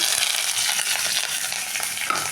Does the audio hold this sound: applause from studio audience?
no